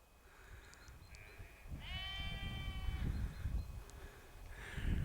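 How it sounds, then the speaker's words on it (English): Lambs bleating in a field in the Cumbrian countryside near Kirkby Lonsdale: a clear, moderately near drawn-out bleat of about a second, with fainter calls around it over steady outdoor wind and ambient noise. "You can hear the lambs."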